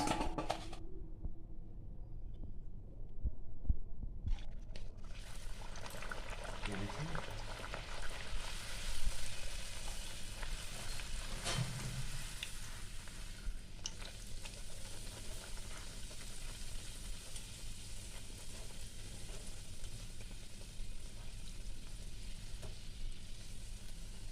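Chana dal puris deep-frying in hot oil, a steady loud sizzle and bubbling running throughout with occasional clinks of a utensil, no voices.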